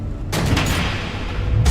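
Missiles launching and blowing up in the Telltale Batman video game: loud booming blasts, one at the start, another soon after and a third near the end, over a continuous rumbling roar.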